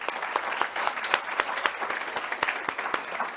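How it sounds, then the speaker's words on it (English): A symposium audience at a Women in Science event applauds its speakers, a steady crowd of many hands clapping continuously at moderate volume with a few sharper claps standing out, and no talking. "Can we please have a massive round of applause for our speakers?"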